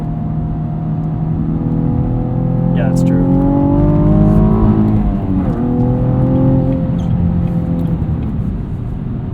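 A 2016 Cadillac ATS-V Coupe with a six-speed manual gearbox pulls through a gear, its engine note rising steadily and then easing back, heard from inside the cabin under continuous conversation.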